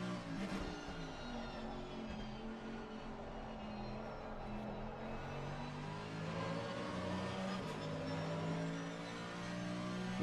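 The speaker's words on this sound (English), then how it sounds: "hearing these wonderful engine sounds of the AMG" AMG race car engine in a racing video game at Paul Ricard, a steady loud drone with layered harmonic whine that rises and falls gently as the car holds speed, with no talk over it.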